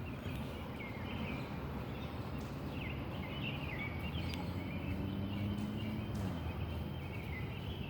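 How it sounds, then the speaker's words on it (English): Birds chirping outdoors in soft, scattered calls over a steady, dense background of insect-like buzzing and ambient hiss, faint and continuous, with no voices. "the birds are chirping"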